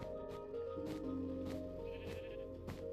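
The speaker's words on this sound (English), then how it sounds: "Yeah, even the sheep's agreeing there." Sheep in Minecraft Bedrock Edition bleat repeatedly, several short wavering calls rising over a steady background of game music, fairly close and clear with no talking.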